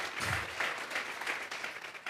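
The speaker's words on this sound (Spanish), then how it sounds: "Vamos a regalarle ofrenda de palmas al Dios de la gloria." A church congregation claps together during a Spanish-language sermon, a steady, full wash of applause lasting about two seconds.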